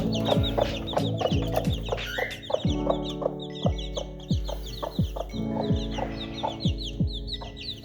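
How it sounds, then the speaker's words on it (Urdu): Agitated chickens and hens on a farm cluck and squawk continuously, loud and close, with overlapping calls and bursts of sharp cackling throughout. "مرغی سب غصے میں ہے."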